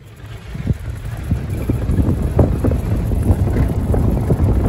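A Desert Fawn Western 300 electric golf cart with a 42-volt system is driving, heard mostly as steady wind buffeting and a low rumble that builds and then holds. No voices are heard.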